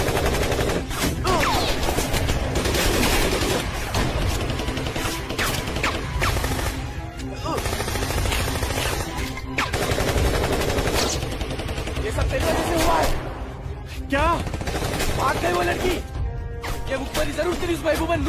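Heavy gunfire in a film scene set in Kashmir, dense bursts of machine-gun and rifle shots with crashes, loud and nearly continuous, with voices shouting among the shooting.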